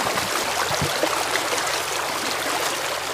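A shallow stream flows steadily past on a scenic river, its broad, continuous rushing and trickling water close and loud with no voices over it.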